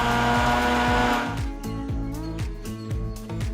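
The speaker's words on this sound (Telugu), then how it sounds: "మెత్తటి పేస్ట్ అయ్యేట్టు రుబ్బుకోవాలి" A mixer grinder runs briefly, blending masala with water into a fine paste, its whirring lasting about a second before giving way to rhythmic background music.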